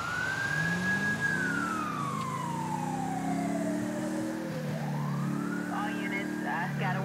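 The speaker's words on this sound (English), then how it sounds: "But watch the fire engine, they'll run over you." A fire engine siren in Grand Theft Auto 5 wails in long rising and falling sweeps, steady and fairly close, with a short yelp pattern near the end over a low engine drone.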